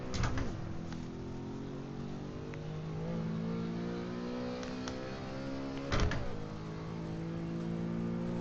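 A car in a racing sim video game during hot laps, its engine revving and rising through gears with audible shifts at steady intervals, fairly quiet and without talk.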